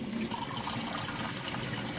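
Plain tap water pours into a container during a rib-smoking cook, a steady close rushing and splashing stream with no voices.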